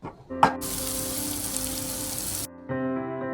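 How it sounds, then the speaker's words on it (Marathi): Cauliflower tossed with spices in a pan gives a steady hissing sizzle after a short clatter, fairly quiet and close, then cuts off abruptly before a faint humming background returns. "मसाले छान असे फ्लॉवरमध्ये परतून घ्यायचे"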